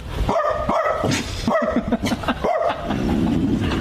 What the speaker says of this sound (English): Tom Brady announcing his adorable pup Junie is actually a clone of his previous pit bull mix Lua, who died in 2023